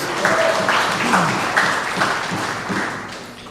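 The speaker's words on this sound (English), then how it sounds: "Let's give him a hearty round of applause, please." An outdoor crowd at a live community event in Fyzabad applauds a Member of Parliament with steady, moderately loud clapping. The applause fades slowly toward the end, with a few voices mixed in.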